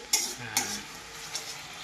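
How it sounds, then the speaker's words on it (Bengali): A utensil scrapes a pan a few times while fish curry with okra cooks, soft clinks over a faint, steady sizzle, close by and without voices. "এবার এটা একটু নাড়িয়ে"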